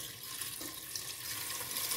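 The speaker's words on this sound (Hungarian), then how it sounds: "És ráöntöm a vizet, amennyit elbír ez az edény." Water is poured into a large, narrow five-litre cooking pot for potato cream soup, a steady running, splashing flow close by that lasts throughout without pause.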